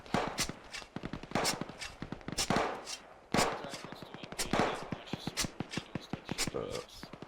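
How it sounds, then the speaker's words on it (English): Rapid bursts of gunfire in the video game ARMA 3 crackle in quick succession, sharp repeated shots forming a dense, uneven volley from start to finish. "Gunfire near the white smoke in front of us"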